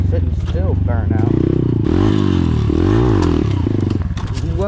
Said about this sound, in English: I'm gonna do like a sitting still burnout.